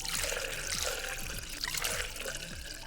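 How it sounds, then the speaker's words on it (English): Water pouring and splashing into a vessel, a steady liquid rush with gurgling bubbles and small descending glugs close by. "Welcome to 15 minutes pouring water."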